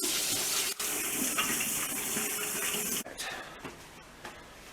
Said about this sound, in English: First thing we do, always, wash your nasty hands.